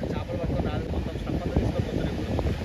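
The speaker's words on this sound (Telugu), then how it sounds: "గాలి మాత్రం ఇంకా వస్తుందిరా సన్నగా." A gentle sea breeze at Chirala beach before sunrise buffets the microphone with a steady, soft rumble throughout, with no clear speech over it.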